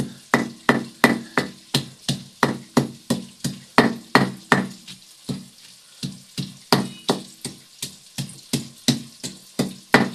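Garlic with green chillies pounded by hand for an aloo matar curry, a steady series of sharp, evenly spaced thuds with a brief pause midway, close and loud with no voices.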